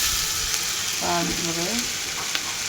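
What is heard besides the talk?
garlic paste frying with onions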